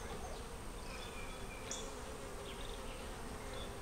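Honey bees buzz at an open hive, a dense, continuous swarm drone, close and even throughout.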